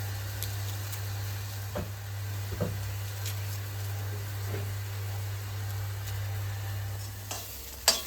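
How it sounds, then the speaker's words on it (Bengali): Radish greens with green chilli, salt and turmeric frying in a pan, a soft continuous sizzle over a low steady hum, broken by a few scraping stir strokes. "মুলো শাক প্রায় আমার ভাজা হয়ে গেছে"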